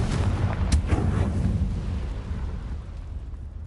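A Confringo spell explosion goes off in a Harry Potter video game, a loud rumbling blast with a sharp crack near the start that decays into a low, fading roar, with no voices over it.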